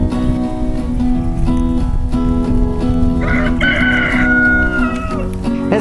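Hens cluck in a busy chorus while a rooster crows partway through, the calls close and steady over a constant farmyard din.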